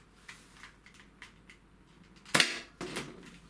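A small foam-dart blaster fires at a target in a quiet room: one sharp pop with a brief burst of impact, then a softer second thud a moment later, with faint clicks of handling before.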